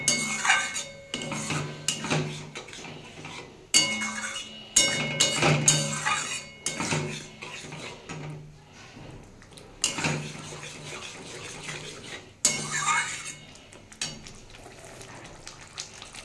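Green jackfruit curry is stirred and sautéed in a pan over a raised gas flame, giving intermittent metallic clinks and scrapes of a spoon against the pan in irregular bursts separated by quieter gaps.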